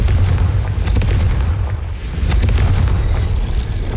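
A Confringo blast spell in the Hogwarts Legacy video game on PS5 sets off a loud, heavy booming explosion that rolls into a sustained low rumble for several seconds.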